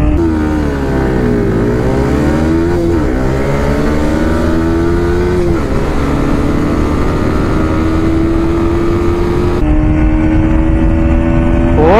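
A Bajaj Pulsar NS200 races a Yamaha R15M in a drag race, heard as a loud, close engine note that climbs in pitch through several gear shifts, dipping briefly at each change before pulling steadily higher.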